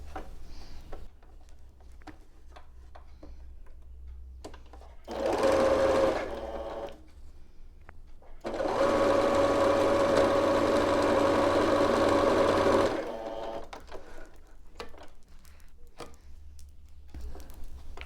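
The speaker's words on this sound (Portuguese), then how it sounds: "E agora eu vou passar uma costura de fora a fora." A sewing machine stitches a patchwork pillowcase seam in two runs of rapid, steady mechanical whirring, a short burst followed by a longer one of several seconds, close and clear with quiet pauses around them.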